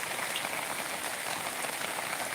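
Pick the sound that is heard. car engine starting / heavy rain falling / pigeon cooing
heavy rain falling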